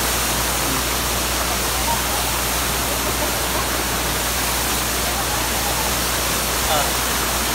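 Poocan Falls sends out a steady, unbroken roar of rushing water after heavy overnight rain, loud and constant across the whole clip.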